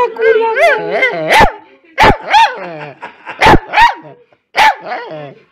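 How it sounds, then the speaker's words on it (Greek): A dog barks in short, sharp bursts with whiny, yelping tones between them, close by, in an uneven rhythm with pauses. "Σε μαλώνει ο Γιώργος που γαυγίζεις?"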